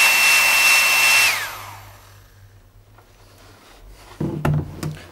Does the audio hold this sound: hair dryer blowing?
yes